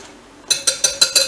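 A quick series of five rhythmic scraping clinks as a sourdough starter mixture with potato flakes is stirred in its container, close and clear after a brief quiet moment.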